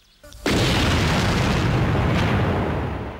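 A massive detonation bursts beneath the bomb-proof floor of an armoured car, a single loud boom that hits after a brief quiet moment and then roars on as a sustained rumble with no talk.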